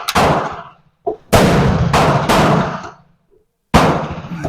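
A Madsen M47 rifle fires four loud, close shots, each a sharp blast with a long rolling echo that fades before the next round. The shots come at uneven intervals and no one speaks.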